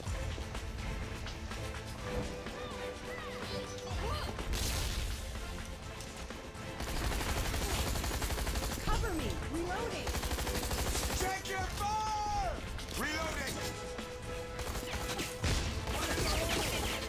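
Loud, dense gunshots and automatic fire from the video game Hazard Ops crackle through long stretches of combat, mixed with crashing impacts and whooshes, the volleys rising and falling without letup.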